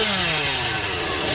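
Chainsaw revving in the video game Dead by Daylight, a loud buzzing engine whine that drops in pitch early on, then holds a harsh steady drone for a moment.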